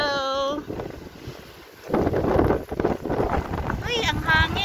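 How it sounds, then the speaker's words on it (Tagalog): Strong wind buffets the microphone aboard a boat near a seaside village, gusting in heavy rumbling bursts that swell in the middle, while people talk briefly at the start and end. "Uy, ang hangin."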